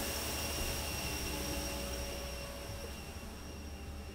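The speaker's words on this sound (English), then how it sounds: "let's climb aboard Air Force One and head south" Steady roar inside the cabin of Air Force One in flight, a broad unbroken jet engine drone that eases slightly toward the end.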